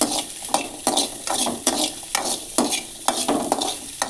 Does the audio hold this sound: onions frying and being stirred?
yes